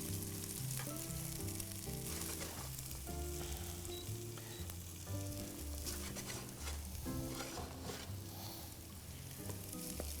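Food browns in a hot pan with a steady, soft sizzle and crackle running beneath low background music, faint and continuous throughout.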